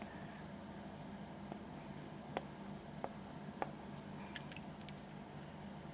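Colored chalk drawn across a board during a chemistry lesson: faint, sparse taps and short scratchy strokes over a steady low room hum, with no talking.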